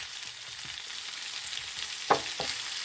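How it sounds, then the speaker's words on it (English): Already-cooked potatoes frying in oil for a Spanish tortilla give a steady close sizzle, broken by a couple of brief knocks of a utensil near the end. "just spread them out nicely so they got the flat side into the oil"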